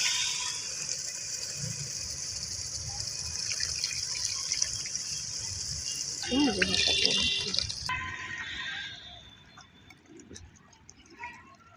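Water pours into a pot of tamarind fish curry made with korameenu fish, a steady hiss that shifts partway through, while someone talks over it.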